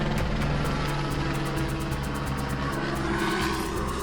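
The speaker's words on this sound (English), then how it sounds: "There's the helicopter circling around." Loud, steady rotor and engine drone of a helicopter circling overhead, with a rhythmic thumping pulse throughout.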